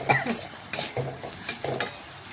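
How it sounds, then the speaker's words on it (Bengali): Potatoes frying with spices as a spatula stirs them, several scraping strokes rising over a continuous hiss and sizzle in the pan, close and fairly loud. "এইভাবে নাড়াচাড়া করে আলুটা একটু মশলার সাথে আমি ভেজে নিচ্ছি"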